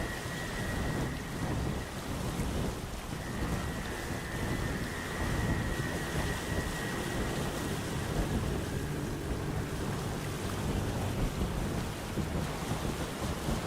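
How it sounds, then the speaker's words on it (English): A storm rages at sea in the video game Windbound. Steady rain hisses with low rumbling thunder and wind throughout, and a faint high tone drifts in and out, with no voices. "the ever-raging storm that surrounds the islands"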